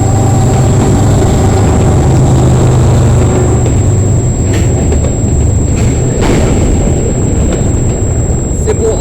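A CN eastbound freight train, symbol M302, led by locomotive 3117 with 2847 trailing, passes close by as a loud, steady, heavy rumble and roar of engines and rolling cars throughout.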